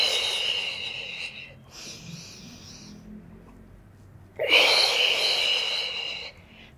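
Audible breathing during an intermediate Pilates full-body workout, strong breathy exhales with softer stretches between, close and fairly loud, with no talking over it.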